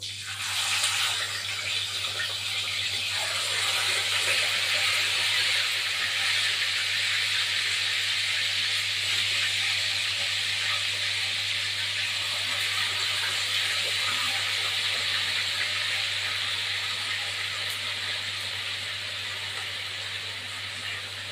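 Chicken pieces frying in a pan: a loud, continuous hiss of sizzling oil that flares at the start and then holds steady for a long stretch, with a low hum underneath.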